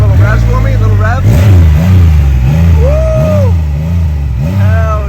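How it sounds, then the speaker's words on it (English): A brand-new, zero-mile Yamaha R1M sport motorcycle gets several short revs up and down, loud and close, with people cheering and talking over it. "You give it a little revs for me? A little revs?"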